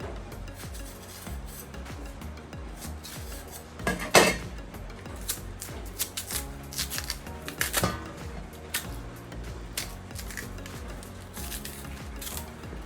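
Unripe plantain peeled by hand in a Nigerian kitchen, with continuous close rubbing and scraping of skin and fingers, punctuated by a couple of louder tearing crackles.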